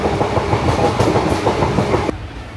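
The Kanchanjangha Express runs on rails from Sealdah toward Assam, its wheels beating a loud, steady clickety-clack rhythm, heard up close and with no talk, until the sound suddenly drops off near the end.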